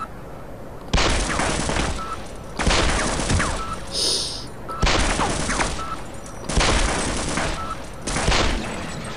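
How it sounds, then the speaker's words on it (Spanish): Automatic machine gun fire in the Half-Life mod Azure Sheep comes in five loud, sustained bursts of rapid shots, each lasting about a second or more, separated by short pauses, close and harsh. "Esta ametralladora es muy potente. La tenemos que eliminar a disparos."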